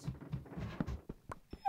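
In a video game, a dog gives a short, faint whimper amid soft muffled thumps, ending in a thin high whine.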